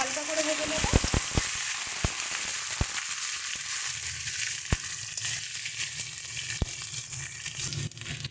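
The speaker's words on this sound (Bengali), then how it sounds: "আলুটা হালকা করে ভেজে নেব।" Pre-steamed potatoes fry lightly in a pan, giving a faint, steady sizzle with a few sharp crackles and taps scattered through it.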